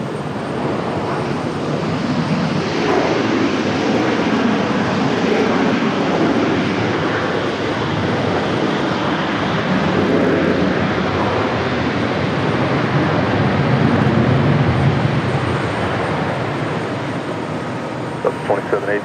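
Airliner at Raleigh Durham airport taxiing and then departing, a loud sustained jet engine roar with broad rushing noise that swells and holds, heard from nearby, with faint radio chatter beneath.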